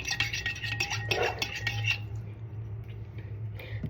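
A utensil stirs a yeast mixture in a bowl for homemade pizza dough, giving quick, bright clinks and scrapes against the bowl for about two seconds. A low steady hum runs beneath and continues after the stirring stops.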